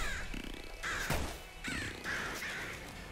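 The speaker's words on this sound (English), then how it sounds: "Oh my god, I hate the crows so much." Crows caw repeatedly in the Nuclear Throne video game, a run of harsh, close calls about once a second, loud and standing alone with no talk over them.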